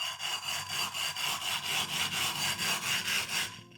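A dished 220-grit Naniwa water stone is rubbed flat against abrasive powder in steady back-and-forth strokes, producing a harsh, gritty rasp that swells and fades about three times a second, close and alone.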